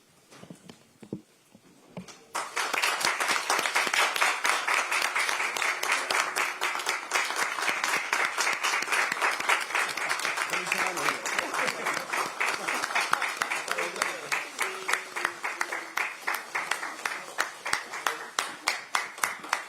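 A standing crowd at a Korean party event applauds as presidential candidate Lee Jae-myung enters; after a few quiet seconds a loud, sustained burst of clapping begins, gradually thinning into more distinct rhythmic claps toward the end.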